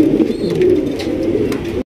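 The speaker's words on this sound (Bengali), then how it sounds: "এখানে রয়েছে চমৎকার একজোড়া গড়া কবুতর" A pair of domestic pigeons on a pigeon farm cooing close by, a steady low throaty murmur that runs unbroken for about two seconds, then cuts off.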